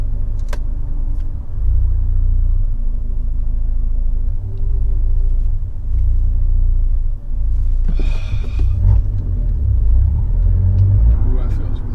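A Fiat 124 Spider with the 1.4L MultiAir Turbo idles too low with a misfire, giving a rough, stuttering low rumble close up throughout, with brief clatter and handling noises partway through.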